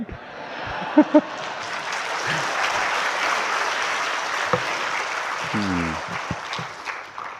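Audience at an LPDP forum bursts into sustained applause during the Minister of Religious Affairs' speech, a dense crowd clapping that swells and lingers, with a couple of sharp taps and a short voice fragment near the end.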